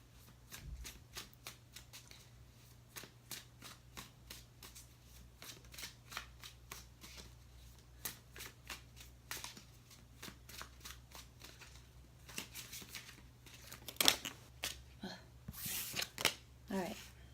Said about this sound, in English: I'm just going to shuffle until something comes out for you guys